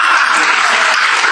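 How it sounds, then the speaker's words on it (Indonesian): A church congregation claps for the assistant pastor during a sermon, giving a dense, steady burst of applause that stays loud and even for its whole short length, with no voices on top. "Tepuk tangan buat Pak Wakil Gembala."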